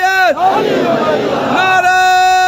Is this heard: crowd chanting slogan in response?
yes